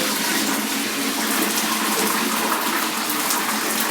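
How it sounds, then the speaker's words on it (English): Water runs steadily from a tap in a mansion bathroom, a loud, continuous, close rush with no pauses or voices. "As I told you, we have the running water."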